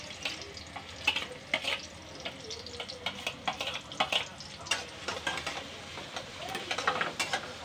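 Finely chopped garlic fries in a pan for veg manchurian, crackling in uneven bursts of sizzle as it is stirred, fairly close and with no talking.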